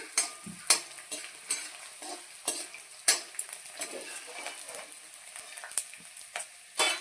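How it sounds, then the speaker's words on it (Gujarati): Quiet sizzling of edible gum frying in hot ghee, with frequent scraping and clinking as a spoon stirs the pan, no voices. "આવી રીતે આપણે બધો ગુંદર તળી લેશું"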